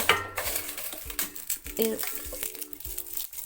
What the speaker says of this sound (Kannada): ಅದಕ್ಕೆ ತಗೊಂಡಂಥ ಮೆಣಸನ್ನು ಹಾಕ್ಕೊಂಡು ಸ್ವಲ್ಪ ಫ್ರೈ ಮಾಡ್ಕೊಳ್ಳೋಣ